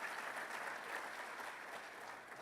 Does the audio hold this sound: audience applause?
yes